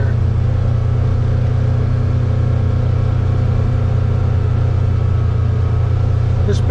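A newer UTV on a trail near Fairfield Bay, Arkansas drones along with a loud, steady low engine rumble that holds constant, close by, with no talking over it.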